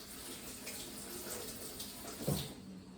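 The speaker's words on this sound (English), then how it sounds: "Have to wash hands." Running water from a tap pours steadily while eggy hands are rinsed clean, a continuous close splashing wash with a brief louder splash near the end; no talking.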